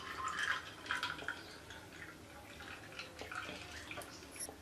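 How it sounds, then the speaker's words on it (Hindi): Water is poured into a jug of peach sharbat with ice, a faint splashing and trickling pour close by. "अब मैं इसमें पानी डालूंगी।"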